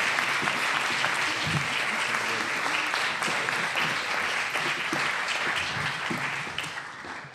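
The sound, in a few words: audience applause welcoming speaker Mario Morino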